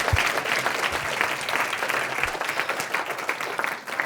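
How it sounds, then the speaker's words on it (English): An audience at a community organizing and mobilizing session bursts into sustained applause, dense clapping filling the room steadily for several seconds with a few louder claps near the start. "let's give a huge clap support to our sister."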